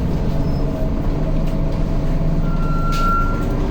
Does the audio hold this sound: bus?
yes